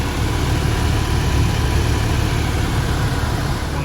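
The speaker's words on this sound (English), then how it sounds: "Alright, the blower motor's making a noise." A furnace blower motor runs noisily during a no-heat, no-ignition fault, giving a steady, loud, continuous low drone with a rough rattling edge and no speech throughout.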